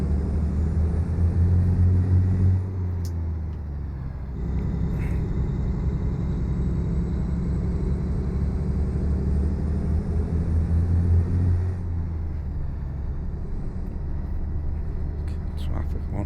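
Heavy truck engine in Euro Truck Simulator 2 drones steadily with a low rumble, dropping briefly as gears change, while someone talks over it throughout.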